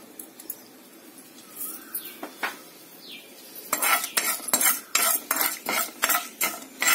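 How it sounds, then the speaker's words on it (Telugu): Tempering seeds and chana dal frying in hot oil, a quiet sizzle at first, then repeated loud metallic clinks and scrapes of a spoon stirring in the pan toward the end. "తిరగమాత వేగనిద్దాము"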